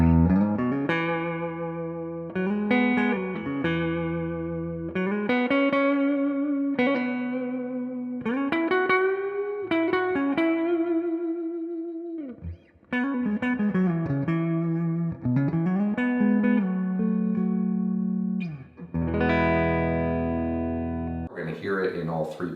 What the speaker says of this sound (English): This is my Gibson Les Paul, and what we're talking about today are Wolfetone pickups